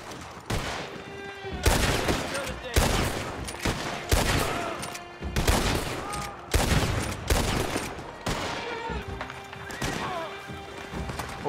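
Dense gunfire in Red Dead Redemption 2, loud repeated bursts of shots in quick volleys across the whole stretch, with horse hooves and whinnies mixed in amid the battle.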